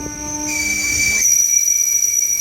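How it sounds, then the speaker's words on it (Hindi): A passenger train brakes as it approaches Chakand. Loud, sustained high-pitched wheel squeal rises over the steady rumble of the moving railcars, and no voices are heard. "हमारे ट्रेन को लग गया है ब्रेक।"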